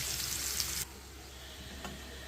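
Onion and green chilies fry in a pan with a steady, close hiss of sizzling oil that drops noticeably quieter partway through, then continues as a softer crackle.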